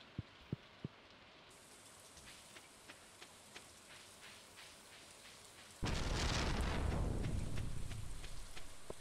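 Steady rain in the Stardew Valley farming game, a soft hiss at first that swells abruptly into a loud, dense downpour with faint thunder, no talk.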